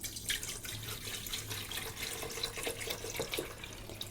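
Tap water runs into a watering can indoors, a steady, close splashing stream with bubbling, gurgling texture and a low hum underneath, continuous and fairly quiet throughout.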